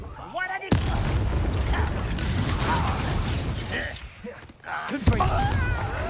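A fiery Incendio spell blast rips through a Hogwarts Legacy battle. Two sharp cracks land about five seconds apart, with dense roaring bursts and mechanical clatter between them, loud and close, while a voice talks over the fight.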